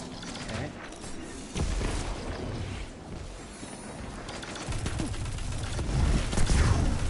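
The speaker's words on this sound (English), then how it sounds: "There's the Nova Bomb" A Nova Bomb super detonates in a Destiny Crucible match, a dense burst of booming explosions amid continuous gunfire and game effects that builds louder toward the end.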